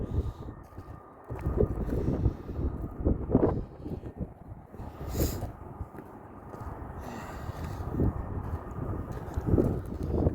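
Gusty wind buffets the microphone in low rumbling surges, rising and falling over about ten seconds with no one speaking.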